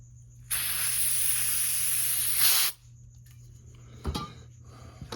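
Brake cleaner sprayed onto parts of a 2007 KTM 525 motorcycle: one steady, loud aerosol hiss lasting about two seconds, followed by quiet handling clatter and a brief knock nearby.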